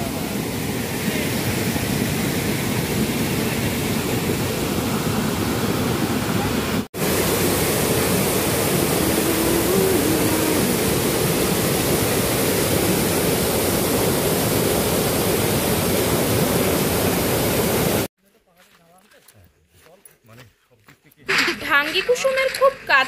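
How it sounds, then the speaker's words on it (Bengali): Water of a waterfall pouring over red stones, a steady broadband rush that runs loud and unbroken for most of the stretch, then drops away abruptly near the end, leaving faint scattered sounds. "লাল পাথরের ওপর দিয়ে বয়ে যাওয়া এই ঝর্ণার জল লাল"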